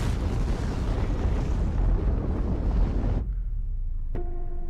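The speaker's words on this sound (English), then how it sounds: "Russia recently declassified secret footage of its 1961 detonation." Declassified 1961 footage of the Soviet Tsar Bomba (Big Ivan), a 50-megaton nuclear detonation: a loud, sustained broadband roar that cuts off abruptly after about three seconds. A brief tonal sound follows near the end.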